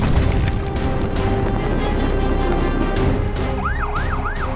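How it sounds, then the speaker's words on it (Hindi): A fire engine's wailing siren rises and falls in repeated sweeps near the end, over loud, steady rumbling background noise. "सायरन की गूंज शांत हवाओं को चिरती हुई आगे बढ़ती है।"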